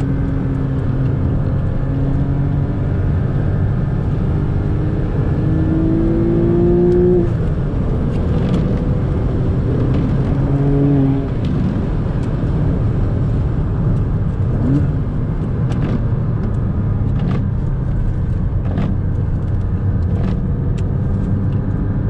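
A Porsche Boxster S laps a race track at around 45 to 50 mph on half power, its engine rumbling loudly inside the car with rising and falling revs and a steady road roar beneath.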